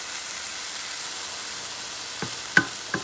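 Cauliflower rice frying in a pan, a steady soft sizzle throughout with a few brief stirring clatters near the end.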